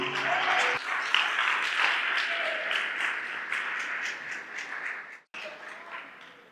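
A church congregation applauds during a sermon, steady mass clapping that begins after a brief lead-in and gradually thins toward the end, with a short break before it resumes.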